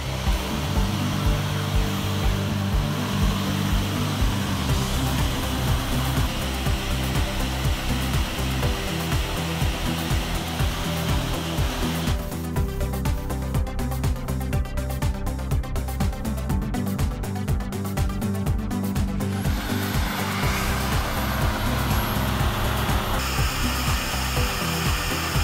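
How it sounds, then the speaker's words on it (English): A power sander works the faired surface of a Hallberg Rassy 312 sailboat before painting, a continuous loud whirring grind that shifts in tone partway through, close up, with no talk. "Okay, now we go to sand here."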